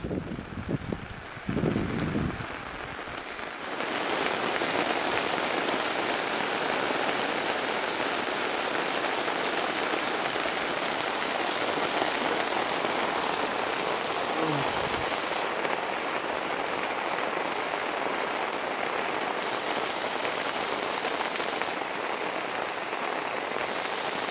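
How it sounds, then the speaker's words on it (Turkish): Steady heavy rain drums on a tent close by, a dense continuous patter with gusts of wind, after a few seconds of quieter rustling. "Şiddetli yağmura dayanamadı."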